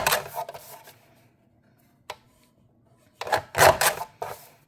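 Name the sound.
Tim Holtz decal edge trimmer cutting paper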